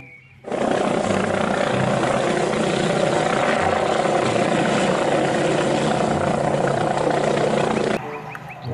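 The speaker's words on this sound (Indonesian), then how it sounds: "Wow, ini ada helikopter polisi." A loud, steady police helicopter rotor drone with a constant chopping roar, running continuously for several seconds before cutting off abruptly.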